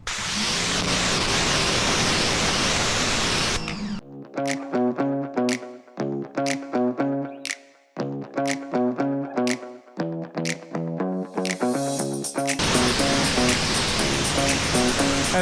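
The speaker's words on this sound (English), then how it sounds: "this nozzle here, this tip, which is actually for soap, but it gives me the water flow that I need without risking to apply too much pressure" A pressure washer with a low-pressure soap tip sprays water over a 2024 Honda Africa Twin Adventure Sports DCT motorcycle, a loud steady hiss at the start and end. The middle stretch is taken over by a plucked melodic music passage.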